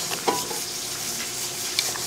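Fried garlic is stirred into sizzling chili oil with a spoon, giving a soft steady crackle and two brief scraping clinks against the pot.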